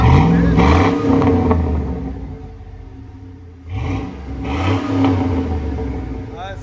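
Deep, throaty exhaust from a 2006 Chevy Silverado LS with a 5.3L V8 and Black Widow Angry Housewife muffler, rumbling at idle with two strong revs that swell and fall, close and loud, with someone talking between them.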